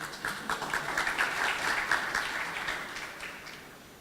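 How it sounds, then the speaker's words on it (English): A conference audience at an Angular developer talk claps for a volunteer brought on stage, a moderate burst of applause that swells quickly, holds for a few seconds and then tapers off, heard from some distance in the hall. "A big round of applause."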